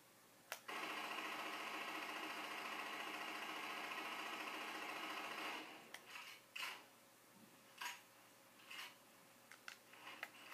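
A machine gun in Halo 4 fires a continuous, very fast stream of shots for about five seconds, followed by a few short scattered bursts and clicks.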